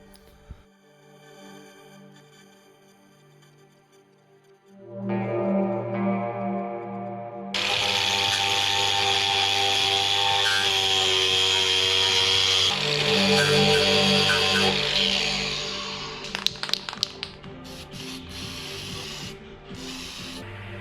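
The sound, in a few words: wire brushing rust off car sill panel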